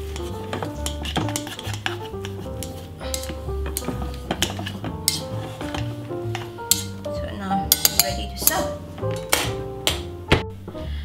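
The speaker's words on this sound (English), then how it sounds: "And just stir the rice with the chopstick." Chopsticks stir cooked coconut rice (nasi lemak) in a metal pot, making scattered close clinks and scrapes against the pot over a tonal music bed.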